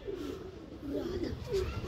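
Pigeons coo softly on a rooftop loft with nesting birds, a few low rolling calls repeating over steady background noise.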